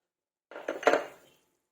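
A spoon stirs mung bean stew with water, chicken cubes and fish sauce in a pot. It makes a short burst of scraping and clinking against the metal that lasts under a second, then silence.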